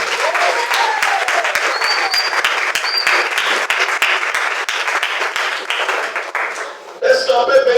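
A church congregation breaks into sustained, dense clapping during a service, fairly close and loud, easing off toward the end as a voice begins speaking.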